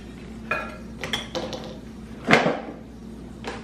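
A spoon clinks and scrapes against a bowl in a few short, sharp taps while Keto Chow waffle batter is mixed with baking powder, close and alone.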